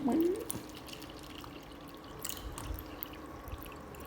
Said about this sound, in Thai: โอเค เติมน้ำก่อน